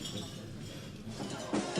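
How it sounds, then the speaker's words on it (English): Glasses chink together softly amid a formal reception with the late Queen Elizabeth II, faint and brief, with a slightly louder clink near the end over a murmur of background voices. "I like this clanking glass."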